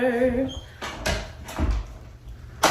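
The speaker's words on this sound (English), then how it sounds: "And now it's time to actually close the door." Darkroom door being pushed shut and latched, a few dull thumps and knocks spaced across the moment, following a brief spoken line.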